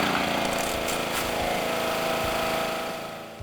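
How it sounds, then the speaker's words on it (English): Gas engine on a pressure washer starting up and running, a steady loud mechanical drone with rough low pulsing, easing off slightly at the end. "Turn your engine on."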